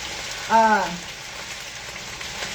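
Potatoes with ramps and garlic frying in a pan, browning, give a steady soft sizzle throughout, with one brief voiced sound near the start.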